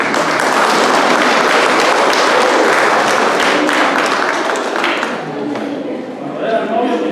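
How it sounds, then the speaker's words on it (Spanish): Wedding guests applaud the bride and groom at a civil and religious ceremony, a dense, loud burst of close clapping that holds steady, then thins slightly near the end as a few voices come through. "Un fuerte aplauso."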